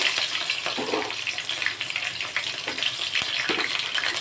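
Green chillies hitting hot oil with popped mustard seeds and cumin in a Tamil tempering for ridge gourd dal gravy, a steady close sizzle and hiss with a few sharper crackles.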